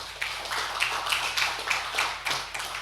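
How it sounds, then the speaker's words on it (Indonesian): A church congregation claps together in a steady rhythmic beat, roughly two to three claps a second, fairly close and loud, with light murmuring beneath the unified claps. "Tepuk tangan dulu dong"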